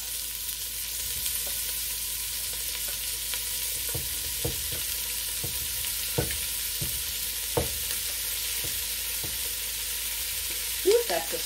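Onions and ham frying in a pot at the start of a homemade seafood chowder, with a steady even sizzle and a regular series of spoon knocks and scrapes against the pot.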